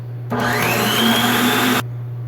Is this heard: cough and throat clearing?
no